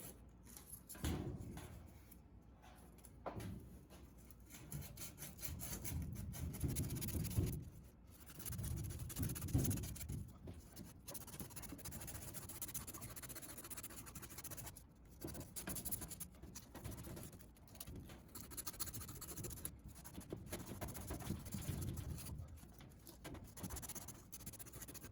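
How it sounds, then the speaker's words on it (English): Faint, steady scratchy rubbing of a plumber's sanding cloth on copper pipe, with irregular strokes and small knocks, no voices. "Keep cleaning the pipe with the plumber's sanding cloth"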